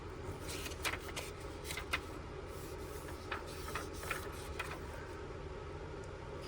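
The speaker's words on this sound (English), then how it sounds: "Again, I'm just going to tear." A paper journal page is torn in a series of soft, rough, crackling rips with small bursts, heard close and quiet.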